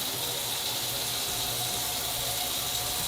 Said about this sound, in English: I'm going to wash and peel 4 large carrots